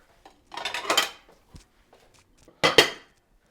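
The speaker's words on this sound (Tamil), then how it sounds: "இதை ஒரு பிளேட் போட்டு நல்லா மூடி வச்சிடலாம்" A plate set down over a bowl of soaking dough for sweet poli gives two close, distinct clattering clinks of ceramic against ceramic, the first longer and scraping, the second sharper, with quiet between.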